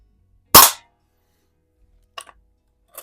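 A vintage Eisenwerke no. 13 air gun, over 125 years old, fires one sharp, loud crack at a can, followed by two faint, brief clinks a moment later.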